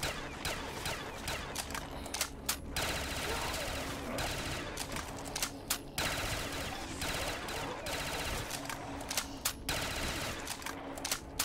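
Suppressed G3 rifle firing in Call of Duty Black Ops 3 custom zombies, a steady run of muffled shots with sharp transient bursts scattered through a busy, dense game mix.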